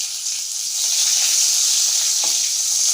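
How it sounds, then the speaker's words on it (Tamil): Thinly sliced onion and curry leaves fry in hot oil with a loud, hissing sizzle that swells after the first second, plus one quick scrape of a spoon; no one speaks. "நல்லா வெங்காயம் நல்லா ப்ரௌனிஷாக வதக்கிக்கோங்க."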